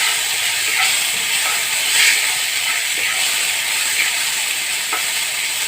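Green chillies fry in oil in a pan over a very low gas flame while a prawn malai curry is being made, giving a steady, close hiss with faint crackles throughout and no talking.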